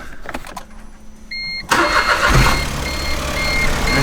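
A Smart car's small engine cranks briefly, then catches and settles into a steady, close idle.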